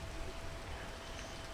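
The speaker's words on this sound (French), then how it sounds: "C'est cette satanée pluie là" Rain falling in the video game Peak, a steady, dense patter and hiss with no break and no voices.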